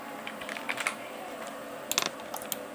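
Keys clatter on a computer keyboard during 3D jewelry design work: a few quick soft taps, then a sharper cluster of key presses close by over a faint hum.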